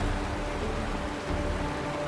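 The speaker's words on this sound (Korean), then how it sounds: "이게 바로 빗소리란다." Soft, steady rain falling in the video game Honkai: Star Rail, a faint continuous patter with a low rumble beneath and a brief burst at the very end, no voices.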